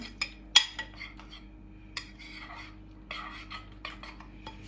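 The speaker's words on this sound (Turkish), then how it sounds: "Şimdi bunu güzelce karıştırıyoruz" A spoon stirs a mixture in a bowl, giving a run of quick close clinks and scrapes in uneven bursts over a low steady background hum; no talking.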